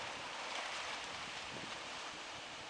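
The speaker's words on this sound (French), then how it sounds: "Il y a aussi beaucoup de vent et donc de très très grosses vagues." Strong wind and heavy ocean surf on the wild coast of Quiberon in Brittany, France, blend into a continuous, fairly faint hiss and roar with no distinct breaking waves and no voices.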